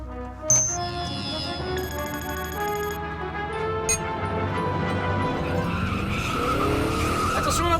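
A flying DeLorean car lifts off over a dense music score, with a broad rushing, skidding roar and tire squeal building steadily across the whole stretch rather than standing out alone.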